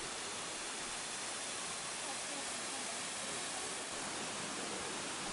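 Duruitoarea waterfall, 25 metres high in the Ceahlău mountains, pours as a steady, dense roar that continues unbroken throughout, heard from close by with no voices.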